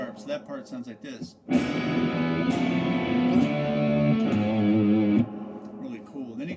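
A distorted electric guitar plays a heavy riff in a shred metal style, sounding thick sustained chords and notes for several seconds. A speaking voice comes just before the guitar and again as it ends.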